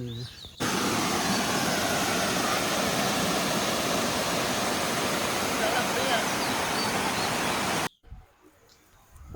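A steady, loud roar of falling water fills most of the clip, then cuts out abruptly to near silence with faint sounds at the end.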